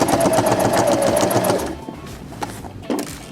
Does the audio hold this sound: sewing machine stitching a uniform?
yes